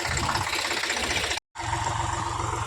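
A tractor engine runs in a farm field during ploughing, giving a steady, loud diesel drone with a knocking throb that cuts out for a split second and then resumes.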